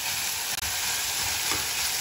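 Peas and onion fry in a pan with salt, giving a loud, continuous hissing sizzle that runs the whole time, broken by a brief stir partway through.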